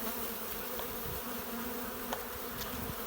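Honey bees buzz continuously at an open hive while being fed sugar syrup, a dense, steady drone close by with no talking.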